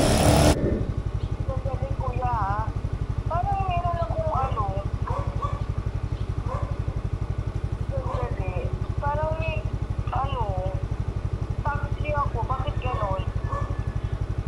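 A motorcycle engine idles with a steady, fast low putter throughout, while a person talks over it in short bursts nearby.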